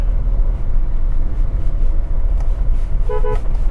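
A car horn sounds two short beeps near the end, set against loud, constant engine and road rumble while driving through city traffic.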